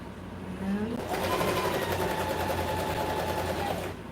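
A sewing machine stitches through fur in one continuous rapid run of about three seconds, close and steady, starting and stopping cleanly.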